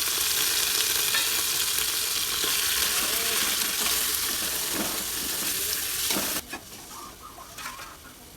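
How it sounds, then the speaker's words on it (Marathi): Goat intestine fat (vajadi) fries in oil with garlic and ginger as a loud, steady sizzle with stirring scrapes, then drops abruptly to quieter crackling and a few clinks near the end, with no speech. "मांद टाकून दिले त्याला तेल सुटत आहे"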